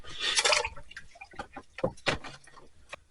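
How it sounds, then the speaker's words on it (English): A relic military helmet is lowered into water, giving a few close splashes and drips of moving liquid with short knocks of the metal, loudest near the start, then quieter trickling. "I'm putting it in the water right here."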